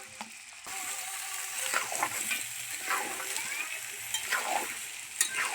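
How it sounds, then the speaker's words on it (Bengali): Mango pieces with salt and turmeric fry in a pan for pickle, a steady close sizzle broken by intermittent scrapes and clinks of a spoon stirring. "এইভাবে ভালো করে ভেজে নিতে হবে আমগুলো ভালো করে ভেজে নিতে হবে"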